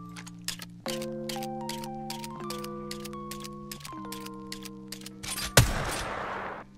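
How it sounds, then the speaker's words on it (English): Two video game rifles, the 30-30 Repeater and G7 Scout, being reloaded: a rapid series of crisp mechanical clicks and metallic clacks over a steady tonal game background, ending in a louder burst near the end. "Let's compare the reload speeds of these two weapons."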